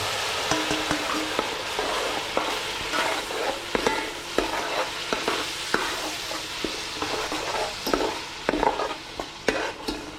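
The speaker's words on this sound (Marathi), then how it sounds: "आपण बारीक कांदा वाटून घेतलाय तो कांदा आपल्याला तेलामध्ये शिजवून घ्यायचा" Ground onion frying in oil for an oyster biryani, a dense continuous sizzle with frequent clicking stirs and scrapes of a utensil, close up and moderately quiet, no voices.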